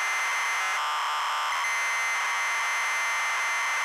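Computer game data tones play from a cassette tape deck: a loud, continuous, harsh buzzing screech with a short pitch change near the start, then a steady tone with no pauses.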